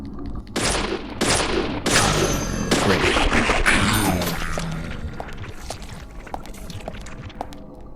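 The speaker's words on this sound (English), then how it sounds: "Shooting patients and nurses and doctors." Gunfire in the video game Deadly Premonition: several loud, close shots crack in quick succession, trailing into scattered clatter and lighter impacts.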